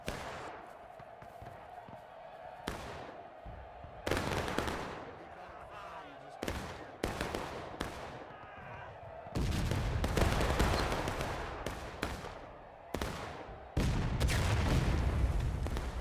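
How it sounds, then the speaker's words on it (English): Civil War cannon and massed rifle fire in the video game War of Rights on the Hagerstown Turnpike map: repeated heavy booms and crackling volleys, some distant and some close and loud, over constant battlefield din. "Coming a little bit short there for that shot by the SR Hardy"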